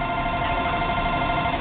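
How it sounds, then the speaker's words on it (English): A telephone rings continuously and steadily at moderate loudness, with no talk over it. "my phone is constantly ringing off the hook."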